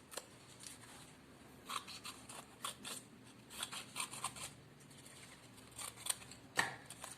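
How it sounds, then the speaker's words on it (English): Paper is cut into two big triangles for cat ears in a craft project, heard as a series of close, soft scissor snips and rustles in irregular bursts, with no talking. "then again we will cut two big triangles for ears"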